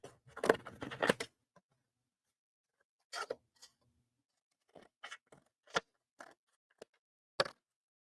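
Several short, crisp snips from scissors cutting, in irregular bursts with quiet pauses between, close by and fairly soft.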